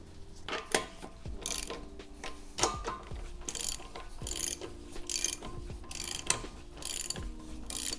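Ratchet clicking repeatedly as car suspension bolts are nipped up on a Kei car during a front camber change, bursts of quick close ratcheting strokes alternating with short pauses, no talk.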